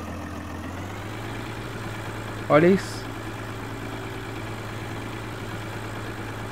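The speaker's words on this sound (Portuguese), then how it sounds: "O trator não tá aguentando e tá escorregando pra baixo." A Massey Ferguson 275 tractor in Farming Simulator 15 strains in deep mud, its engine a steady, low droning hum throughout, with a brief higher burst midway and a person talking over it.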